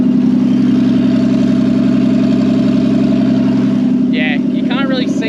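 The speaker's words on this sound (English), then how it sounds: "She fired straight up." A loud, steady idle from the EBISU missile car's engine runs close by throughout, with a brief voice breaking in near the end.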